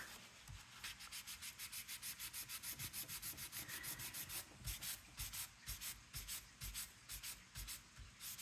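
Repeated hand rubbing of a freshly applied Lunar paste on a surface, a steady back-and-forth scrubbing stroke at a quick, even rhythm, close and fairly quiet, with no talking.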